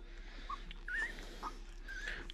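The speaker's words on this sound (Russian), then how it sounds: "Вот такие щенки" Newborn puppies give a few brief, faint whimpers and squeaks, scattered over a low steady background.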